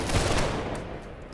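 A musket volley in the online game Holdfast: Nations at War, a loud dense crash of many shots fired at once that rolls off into a fading rumble.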